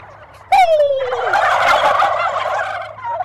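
Turkeys gobble loudly after an aggressive male gobble call, opening with a sharp falling call followed by a dense, rattling chorus of overlapping gobbles that holds steady for a few seconds, close and without speech.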